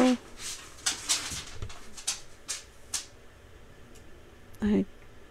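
Indoor dogs making restless whimpers and short noises: scattered brief bursts through the stretch, then a stronger whine near the end, with a muffled voice in the background.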